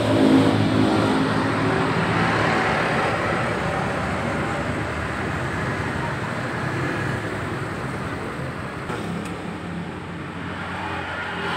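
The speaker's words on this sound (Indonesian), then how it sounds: "Nah, ini nanti kita naikkan ya RPM-nya itu." An automatic motor scooter with a power-loss fault has its engine revved up, a steady loud drone with a broad roar that holds throughout and eases slightly toward the end, without talk.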